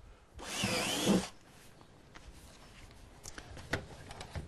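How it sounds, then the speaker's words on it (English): A 3/8 inch battery drill bores a pilot hole into a plastic container, one loud whirring burst of about a second, followed by quieter workshop rustling and small knocks. "I'll use a 3/8 inch battery drill to drill a pilot hole"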